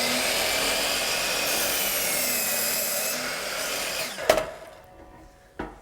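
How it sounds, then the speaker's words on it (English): A wooden wall stud being cut in a garage, a steady buzzing saw lasting about four seconds, followed by a couple of sharp knocks as the cut finishes. "head out to the garage to cut our first wall stud"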